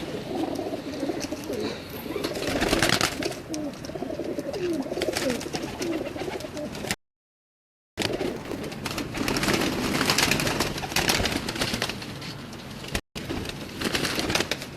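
Pet pigeons coo in low, repeated throaty calls, fairly close, over a constant background hum with two short gaps of silence.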